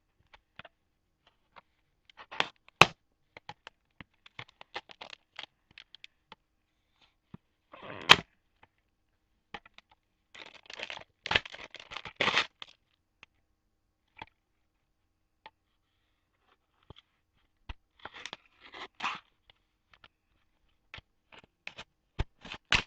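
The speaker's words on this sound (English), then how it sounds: "I like to cut the label off, so I'm gonna do that" Sparse clicks and crisp snips of scissors or a blade cutting the label off a plastic bait trap container, in quiet scattered bursts with faint rustling between.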